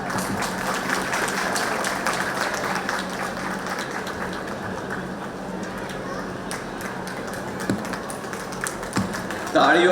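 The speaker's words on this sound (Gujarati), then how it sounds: "તાળીઓથી સતત આપણે વધાવશું" Steady audience applause fills a hall at a centenary celebration honouring former trust office-bearers, a dense, even patter of many hands lasting throughout, with voices murmuring underneath and a slight swell at the very end.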